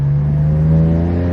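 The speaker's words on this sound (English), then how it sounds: "That rasp is perfect though. So many pops." BMW F80 M3 fitted with catless downpipes, exhaust holding a loud, steady rasping drone for a moment, heard alone without talk.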